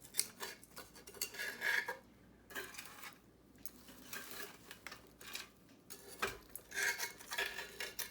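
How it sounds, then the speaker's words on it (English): Root rake dragged along the bottom of a ceramic bonsai pot while repotting a Japanese black pine on a balcony, giving repeated close scraping and scratching strokes in irregular bursts with faint clinks, no talk. "I won't stop until I'm scraping the bottom of the ceramic pot"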